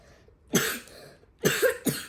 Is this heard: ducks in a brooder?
no